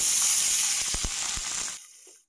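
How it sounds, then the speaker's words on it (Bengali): Two chopped tomatoes hit hot oil with fried nigella seeds, producing a loud bright sizzle with a few soft thuds as the pieces land. The hiss fades quickly and cuts off after about two seconds. "ভাজার পর এবার দিয়ে দিচ্ছি 2টি টমেটো কুচি করে"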